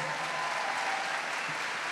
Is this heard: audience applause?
yes